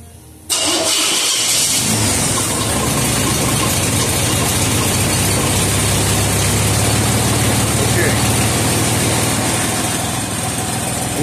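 An engine paired with a Ford C6 automatic transmission cranks and fires up on a dyno, then settles into a loud, steady idle that drones on close by without talk.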